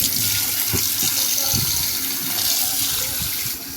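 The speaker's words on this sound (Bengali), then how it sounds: "আমি এটাকে 3-4 বার ঠান্ডা জল দিয়ে ভালো করে সোয়াবিনটাকে ধুয়ে নিচ্ছি।" Cold tap water runs steadily over soybeans being washed in a bowl, a continuous close splashing flow with occasional handling sounds and no talk.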